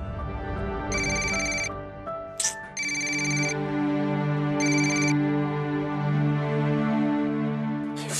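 A phone rings in a household scene, with bursts of a bright electronic ringtone repeating over a sustained music background, and no speech.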